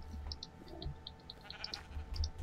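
Minecraft sheep bleating in the game, a few short nasal bleats coming and going over a steady low background hum, fairly faint.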